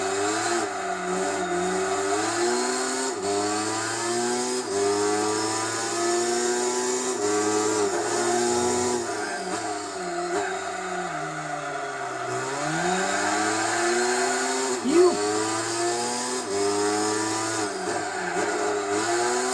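A Mazda RX-7 and a Subaru STI race close together in Gran Turismo 4 during the Tsukuba endurance race. Steady engine drone runs throughout, with rising and falling revs as the cars shift gears and work through corners.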